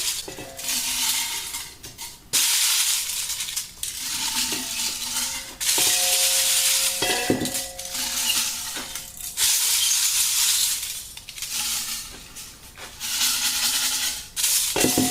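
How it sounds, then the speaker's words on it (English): Aluminum pieces tossed into a ball mill jar clatter and rattle in repeated bursts of metallic jangling and scraping, with short pauses between handfuls, close and fairly loud. "So let's start stuffing the ball mill full."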